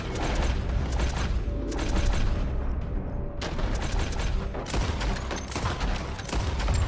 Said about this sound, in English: I'm shooting the wood instead